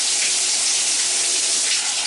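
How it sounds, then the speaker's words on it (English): Warm water runs from a bathtub tap, a loud continuous close-up gush and splash with no break and no voices. "So I'm going to add some water in here. Some warm water"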